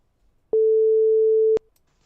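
A single steady telephone ringback tone lasting about a second, loud and clean, sounding once while a call is placed, with near silence before and after.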